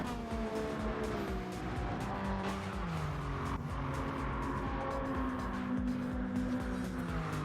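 Race cars pulling out onto the track at a time trial day, including a Nissan Z, with several engines droning and shifting pitch at a distance, steady and moderately faint.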